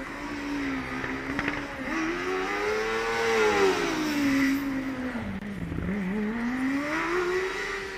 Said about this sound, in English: we can hear the driver pushing in every corner here, heavy on the brakes, immediately on the throttle